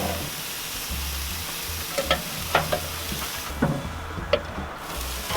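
A pork steak sears on a Char-Griller XD Grand Champ grill, a steady close sizzle and fry with a few sharp pops and crackles scattered through, alone without talk.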